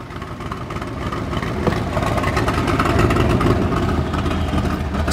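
A 1978 AC Cobra by RAM continuation model running: a loud, close, steady engine rumble with deep exhaust tone that rises slightly and holds, alone without talk.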